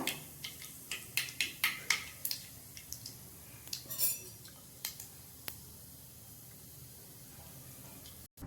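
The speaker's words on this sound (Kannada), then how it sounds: "ಇದು ಸಾಸಿವೆ ಜೀರಿಗೆ ಈ ಥರ ಸೌಂಡ್ ಬರಬೇಕು ನಮಗೆ." Mustard seeds and cumin spit and crackle in hot oil in a home kitchen pan, a quick run of faint popping clicks that thins out into a soft hiss.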